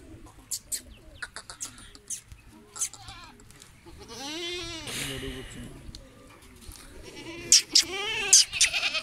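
Gabban goats bleat at a goat farm in Dera Ghazi Khan, Pakistan, a few wavering cries near and far among bird chirps, with people talking throughout.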